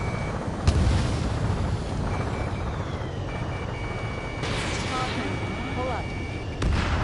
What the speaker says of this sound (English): H2, missile launch.